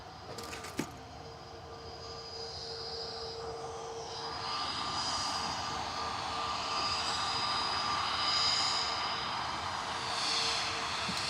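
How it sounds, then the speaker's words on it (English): British Airways Airbus A320neo departing Manchester Airport for London Heathrow, a rising jet engine roar with a whining tone building over several seconds, fairly close, after a brief click at the start. "GTTNT flight 1383 down to London Heathrow for British Airways, A320-200 Neo."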